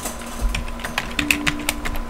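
Keystrokes on a computer keyboard entering a Linux install command in a terminal: a quick, uneven run of light clicks, close and fairly soft, with no talk.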